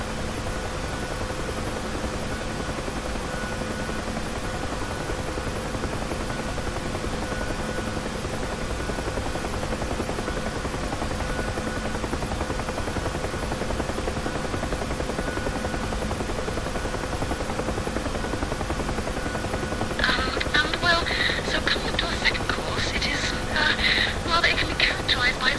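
The engine and turbine of a UH-1 Huey helicopter, flown in the DCS simulator, give a steady whine and drone that keeps going; near the end a burst of rhythmic rotor chop and higher rattling rises as it takes off.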